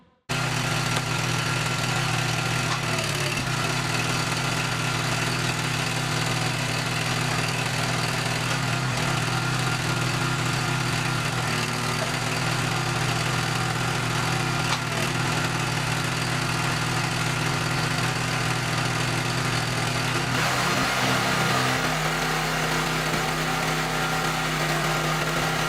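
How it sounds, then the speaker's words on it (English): A 37-ton iron and oak log splitter powered by a Honda GX 270 engine runs steadily in a yard, its small engine droning continuously and loudly with a brief shift in tone near the end. "The iron and oak log splitter, 37-ton, equipped with a powerful Honda GX 270 engine, stands proudly in the middle of the yard"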